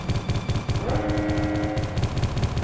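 Rapid automatic gunfire from the video game Geist rattles in fast, evenly spaced bursts, loud and close, with a brief sustained mechanical whine rising midway through the shooting.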